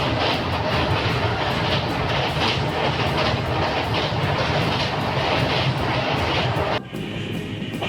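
A passenger train races at about 120 to 130 km/h toward Kharagpur, a loud continuous rumble with rapid rhythmic clatter of wheels on rails, heard from on board, dropping abruptly in loudness near the end.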